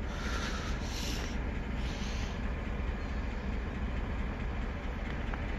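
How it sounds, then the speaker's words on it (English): A train passing during January railfanning in Michigan, a steady broad rumble and rolling rail noise that holds close and loud throughout, with faint high squeal near the start. "It's a train, it's a train."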